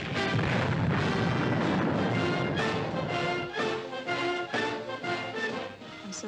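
Artillery guns firing in a film trailer about American G.I.s overseas, loud repeated booms layered over dense orchestral music and battle noise with no pause throughout.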